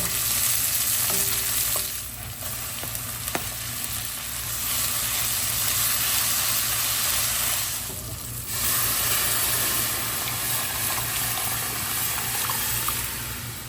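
Bay leaf, dried chilli and garlic sizzling in hot oil for dal tempering, a loud continuous frying hiss with stirring scrapes and two brief dips in intensity across the stretch.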